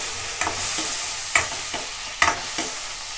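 Mashed carrot fries in a little ghee for gajar halwa, a soft close sizzle broken by a few sharp spoon scrapes and stirring knocks against the pan.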